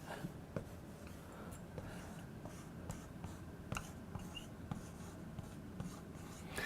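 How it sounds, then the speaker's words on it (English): Hand writing on a surface, close and quiet, with scratchy pen strokes and small taps in an irregular rhythm. "I'm just going to write launch pad."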